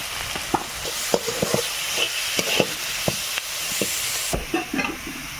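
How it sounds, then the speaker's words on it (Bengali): Spices with cumin and coriander powder fry in a hot pan, a steady loud sizzle broken by repeated scraping and stirring clatters from a spatula, with no talk. "ভালো করে একটু মশলাটা ভেজে নেব এবারে এর মধ্যে জিরে গুঁড়ো আর ধনে গুঁড়ো দেবো"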